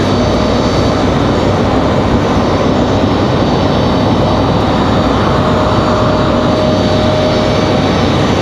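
An aircraft engine roars steadily and loudly at an airport during flight control testing, a constant broadband drone with a faint steady tone and no talk.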